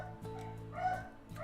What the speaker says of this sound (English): Yep, he's barking.